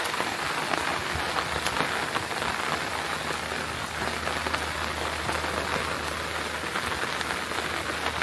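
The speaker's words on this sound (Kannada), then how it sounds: "ಇಲ್ಲಿ ಮಳೆ ಬಂದು ಹಿಂಗಾಗಿದೆ." Steady rain falls on the ground and foliage around an areca nut plantation near a village shrine, a dense constant patter with scattered drops that carries evenly throughout, with no talking.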